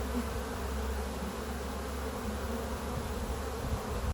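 A honeybee swarm buzzing near the hives, a dense, steady drone of many bees filling the air at moderate volume, with no voices.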